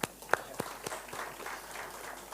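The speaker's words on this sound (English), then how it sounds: "Let's clap hands for that." Audience at a public lecture starts clapping, a few sharp separate claps at first that blend into light, scattered applause, fairly faint and distant.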